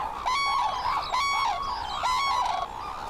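Japanese red-crowned cranes calling loudly in a series of strident, honking trumpet calls, several rising and falling bursts overlapping close by with no talk.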